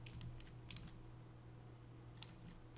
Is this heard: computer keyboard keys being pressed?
yes